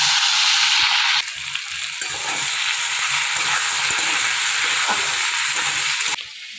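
Potatoes tipped into hot oil in a pan, a loud bright sizzle that drops as they land, then a steady crackling fry with small stirring knocks, softening at the end.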